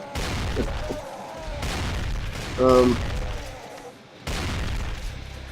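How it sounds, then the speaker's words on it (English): Loud shotgun blasts in the video game Brutal Doom, three heavy booming shots spaced a second or more apart over game noise, with someone talking through much of it. "if you're playing this with headphones in, it is very loud with the shotgun"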